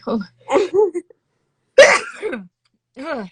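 A single sharp sneeze bursts out between stretches of conversation, loud and close, followed by more talking.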